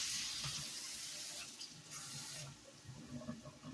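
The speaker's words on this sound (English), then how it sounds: "I only added a little bit of water." Tap water runs steadily into a pot of washed rice being prepared for octopus rice, a continuous close hiss and splash with no talking.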